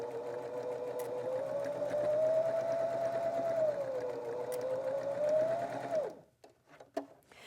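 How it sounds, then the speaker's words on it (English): A sewing machine runs steadily while stitching scrap strips for a log cabin quilt square, its motor hum rising slightly and holding for about six seconds before stopping, followed by a few faint handling clicks. "I'm just going to send him through the machine as well"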